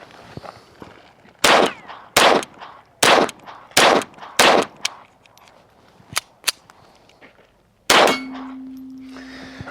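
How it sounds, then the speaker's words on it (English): Sharp unsuppressed .22 rifle shots ring off steel targets in a steady series of loud cracks with metallic pings, followed by fainter hits and a lingering tone. "shooting steel is always going to be a lot louder"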